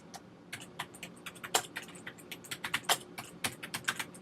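Keystrokes on a computer keyboard tap out in an irregular run of sharp clicks with brief pauses, close and fairly loud over a quiet room, while a book's details are entered.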